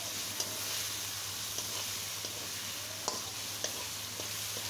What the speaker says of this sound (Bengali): এখন এই টমেটোটা সুন্দর মতো সফট হয়ে আসা পর্যন্ত মশলাটা আমি কষিয়ে নেব